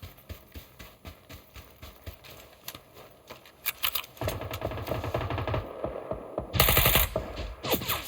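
Rapid gunfire from a fast-firing weapon in PUBG rattles in quick bursts, faint clicky shots early, then a louder dense volley midway and another sharp burst near the end, with no talking.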